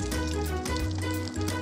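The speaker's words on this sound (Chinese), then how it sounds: "那就等它煎完一面。" Potato and cheese pancake frying in a pan, a steady close sizzle running throughout with a low hum underneath and no talk.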